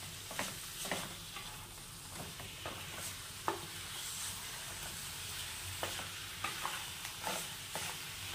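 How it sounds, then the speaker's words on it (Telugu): Chicken pieces tossed with masala in a pan, soft continuous stirring and scraping with a low sizzle and occasional light clicks of the spoon, quiet and close. "ఇప్పుడు ఈ మసాలా అంతా చికెన్ ముక్కలకు పట్టేలాగా మొత్తం కలుపుకోవాలి."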